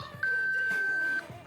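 A single steady electronic beep lasting about one second from a camera-earpiece device, clear and isolated against quiet background.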